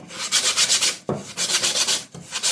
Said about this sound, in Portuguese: Aqui onde você pode lixar aquelas marcações que ficou da caneta.